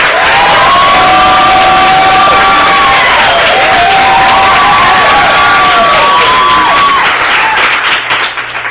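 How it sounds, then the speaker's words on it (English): A loud live debate audience bursts into applause and cheering for the winner, dense clapping with whoops and whistling shouts rising over it, sustained and close for several seconds before easing slightly. "if you believe Ian Rigg was the winner of this debate, applaud now."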